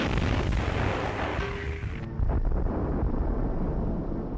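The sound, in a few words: artillery bombardment sound effect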